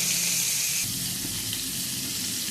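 Pieces of pointed gourd (potol) fry in hot oil in a pan for doi potol, giving a continuous close sizzle that shifts slightly as the pieces are turned, with no talk.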